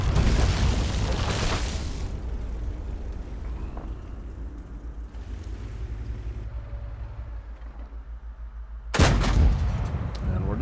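Tank cannon fire in World of Tanks from a Cromwell B, with a heavy booming blast at the start and another sharp, loud report near the end, separated by rumbling engine and battle ambience.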